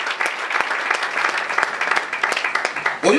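A church congregation breaks into applause during worship, a dense burst of many hands clapping together, close and fairly loud for a few seconds.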